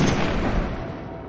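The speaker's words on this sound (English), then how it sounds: "You're just throwing grenades? That's probably why they're exploding." In the video game Destiny 2, grenades explode as a dense, loud rumbling blast that rolls on and slowly tails off, with no speech over it.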